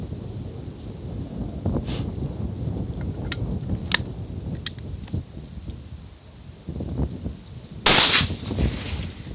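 A shotgun loaded with light birdshot converted into wax slugs fires outdoors at a tree trunk, a single loud blast near the end over steady wind noise and faint distant cracks.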